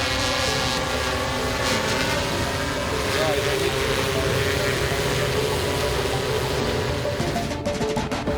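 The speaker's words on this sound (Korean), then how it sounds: "여기는 군집 드론 시험 비행장." A swarm of drones flying over a test airfield makes a steady, loud, broad buzzing hum that continues throughout, with a voice talking over it.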